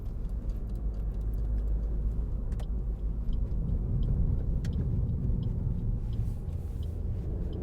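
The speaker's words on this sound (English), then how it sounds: "We'll just give it a bit of a blast up this dual carriageway." A 2013 Suzuki Swift 1.2 SZ3 three-door accelerates up a dual carriageway, its engine and road noise a steady, loud rumble heard from inside the cabin, with faint ticks over the drone.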